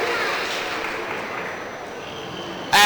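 Crowd clapping for children at a county fair swine show, a steady wash of applause that thins out gradually before a voice cuts in at the end.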